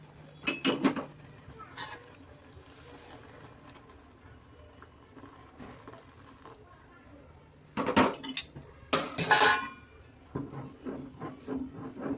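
Knife cutting dry fruits for kheer in a home kitchen, a few sharp metallic clinks and taps in short clusters with quieter handling sounds between them, nearby.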